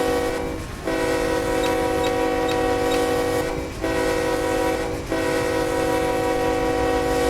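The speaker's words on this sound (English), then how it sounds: "But it takes these GEs so long to spool up." GE locomotives at the head end in Run 8 Train Simulator hold a loud, steady droning tone that dips briefly a few times before swelling back, with no voices over it.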